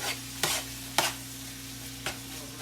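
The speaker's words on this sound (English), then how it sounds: "So I'm going to add that real quick, and we're just going to stir this up." Drained Rotel is stirred into cooked meat in a pan. Three or four distinct scraping strokes sound up close over a low hum and faint sizzle, with no voices.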